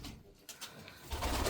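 Pigeons coo in soft, low, rounded murmurs over a short stretch, fairly close and unaccompanied by any talk.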